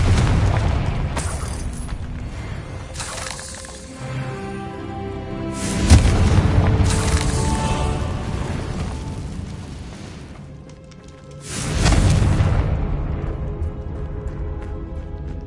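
Confringo fire spell explosions in Hogwarts Legacy, a game, loud booming blasts, three heavy bursts rolling out with long decaying rumbles and crackle.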